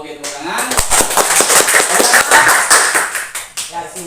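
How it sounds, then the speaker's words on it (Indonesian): Schoolchildren clap their hands in a classroom during a lesson on pulleys, a close, lively burst of sharp claps over a few seconds with voices mixed in. "Oke, tepuk tangan."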